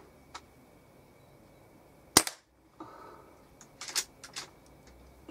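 A single sharp, loud Weihrauch HW97 air rifle shot cracks out alone, followed by a short ringing tail and a few faint clicks and knocks.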